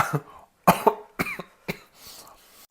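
Several sharp, close coughs in quick bursts from a person eating sweets with a marmalade filling, separated by short pauses, with a throat-clearing sound between them.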